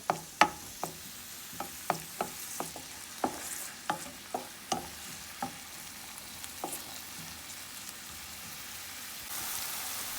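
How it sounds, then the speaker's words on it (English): Onions sauté in a frying pan for a home-cooked Guyanese dinner: a steady sizzle broken by a dozen sharp stirring clicks and scrapes in the first seven seconds, close up and with no voices. "I'm gonna saute the onions just for a little bit"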